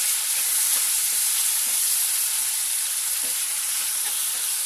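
Sizzling korma in a hot pan as hot red chilli and Kashmiri chilli are stirred in: a steady, bright frying hiss with soft scraping stir sounds, close and continuous with no talk.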